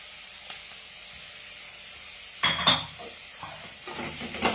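Sliced onions fry in a pan over a medium flame, giving a faint, steady sizzle with a few louder stirring scrapes and clinks of a utensil against the pan partway through.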